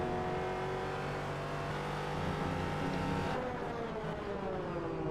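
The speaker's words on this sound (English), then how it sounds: "I do love that sound running over the strip at the side there." A race car in the iRacing sim game runs over the track-side strip, heard as a steady loud engine drone with a buzzing rumble from the kerb, ending in a shift of engine pitch near the end.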